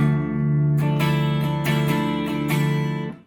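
Electric guitar with the pickup selector in the middle position, chords strummed several times in a steady rhythm, each attack ringing out into sustained notes, close and clear with no talking.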